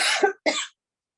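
A single close sneeze from a person painting a wood duck in oil paint, delivered in two quick bursts, a sharp breathy onset then an explosive release, followed by silence.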